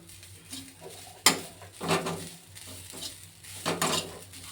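Grated coconut roasting for a fish curry, stirred in a pan with a spoon: soft scraping and intermittent metallic clinks, one sharp knock early on, close and quiet with no voices.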